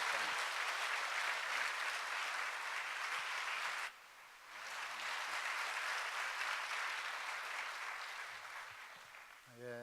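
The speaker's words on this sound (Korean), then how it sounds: "환영의 박수로 우리 목사님 맞이하겠습니다" Church congregation applauding to welcome a visiting pastor at an evening revival meeting, steady crowd clapping with a brief dip midway, then swelling again and tapering before a voice begins.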